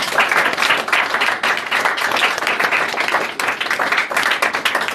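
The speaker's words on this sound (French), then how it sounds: "S'il n'y a pas de nouveau, acclamons pour le Seigneur." A church congregation at a Sunday service applauds, sustained loud clapping from many hands for several seconds, dense and steady with brief dips.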